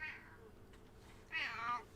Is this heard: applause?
no